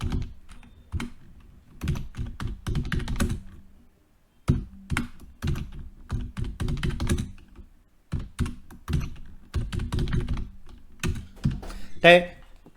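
Typing on a computer keyboard while entering column titles into a PowerPoint table: quick bursts of close key taps and thunks separated by brief pauses, with no voice over it.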